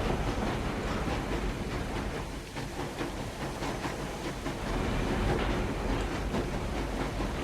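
A train rolls steadily along rails in a zombie-themed train video game, a continuous dense rumble with rhythmic clatter, loud and unbroken for the whole stretch with no talking.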